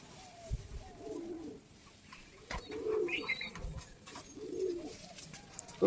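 A Punjabi male breeder pigeon coos in low, rolling phrases repeated three or four times, close by and fairly quiet, with faint background noise between calls.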